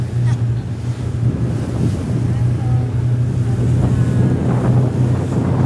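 Strong ocean waves surge around a boat off Dubai and wash loudly and continuously, with heavy wind buffeting the microphone and faint voices in the background.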